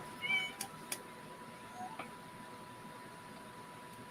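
A house cat meows a few times near the start, small and fairly close, then the room goes quiet apart from a steady electrical hum.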